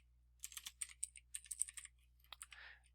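Quick bursts of keystrokes on a computer keyboard while entering a list of color names in R, clicking in short irregular runs with a brief pause, close and fairly quiet with no voice.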